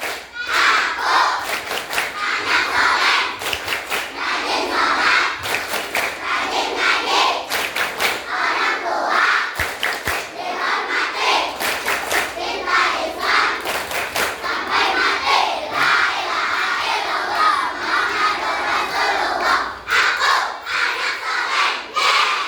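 Schoolchildren at an Isra Miraj school event chant loudly together in a dense, continuous crowd sound, with rhythmic claps and thumps mixed in throughout.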